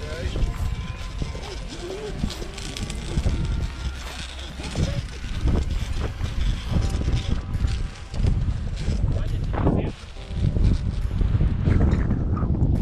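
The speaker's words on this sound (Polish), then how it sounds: "O jaki wiatr." Strong wind buffets the microphone with a loud, gusty rumble, while a person talks close by under the roar.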